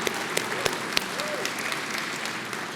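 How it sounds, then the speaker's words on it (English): A luncheon audience applauds the incoming chair of an annual gathering, a steady dense wash of clapping with a few sharper claps standing out throughout. "I'm going to give him another round of applause"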